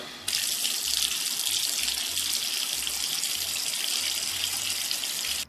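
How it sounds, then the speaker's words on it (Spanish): Steady hiss of shower water running continuously, close and even, with no voices. "Ahora sí, a la ducha."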